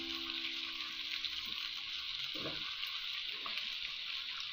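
Potatoes and green chillies frying in a pan, a broad steady sizzle with a couple of brief stirring sounds, close and fairly even throughout, no talking.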